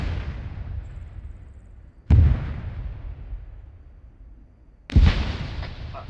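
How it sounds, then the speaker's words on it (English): Tank fire in the field: deep, heavy booms rumble in from a distance, one fading at the start and two more sharp blasts a few seconds apart, each trailing off into a long low rumble. "That sounds like tank fire to me."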